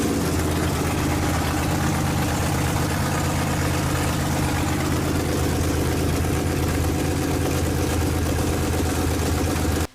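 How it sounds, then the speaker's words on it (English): A car engine started and running with its cylinder head removed gives a loud, steady, rough low-pitched drone that holds for the whole stretch without pause. "This is how an engine looks without a head-on when starting."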